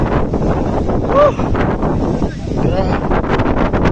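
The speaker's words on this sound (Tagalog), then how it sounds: "Grabe ka hangin." Strong wind buffets the microphone in a constant loud roar with rushing gusts, and a voice briefly breaks through midway.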